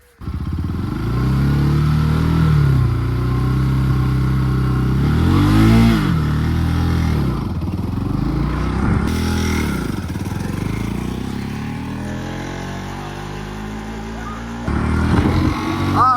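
A Bajaj Pulsar NS200 motorcycle pulling away during a riding lesson: repeated revs swell and fall, the engine note dipping and climbing several times before a final loud burst, close and prominent throughout.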